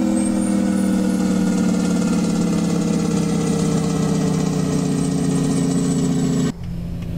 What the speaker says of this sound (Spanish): Lindo freno de motor.